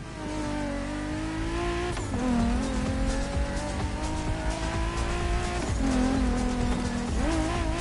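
Off-road vehicles race in The Crew Motorfest, loud engines droning and revving with repeated pitch drops at gear shifts and some tire noise, continuous and close with no voices.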